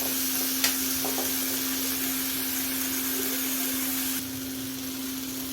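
Tomatoes sautéing in a pan for Tamil kaara chutney, a steady, close hiss of frying with a constant hum underneath, unbroken and without talk.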